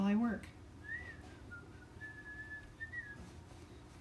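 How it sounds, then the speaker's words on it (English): A person whistles a light, wandering tune, thin high notes drifting up and down over a faint low hum, fairly quiet and close. "Now I want to whistle while I work."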